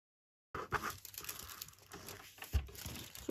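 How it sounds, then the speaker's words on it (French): Close, crisp crinkling and snipping of thin metallic hot-stamping foil cut with scissors, with a sharper crunch near the end, after a moment of silence. "Tu prends ta paire de ciseaux et tu coupes."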